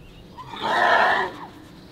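A horse neighs and whinnies once in a short, loud, rising-and-falling call, heard close and alone among horses socializing and grooming together.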